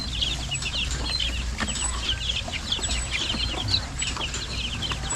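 A Brahma crossbred with a native chicken, among other chickens, clucks in a steady stream of short, bright calls over low background noise, with several birds chattering close by.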